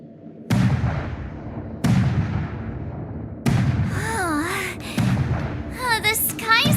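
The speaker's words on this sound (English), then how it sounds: "The Sky Splitter's gun salute is really loud." Sky Splitter's gun salute in the video game Honkai Star Rail: four loud, booming cannon-like blasts at steady intervals, each with a long decaying tail, with a voice speaking between the later shots.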